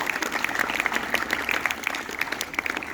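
Steady round of clapping from an audience at a biology quiz competition, a continuous patter of many hands that holds at a moderate level for the whole stretch with no voices on top.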